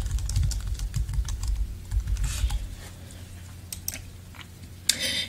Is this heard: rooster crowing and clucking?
no